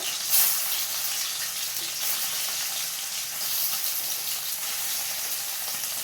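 Paneer pieces frying in hot oil, a dense continuous hiss and crackle held at an even level throughout, close by with no voices.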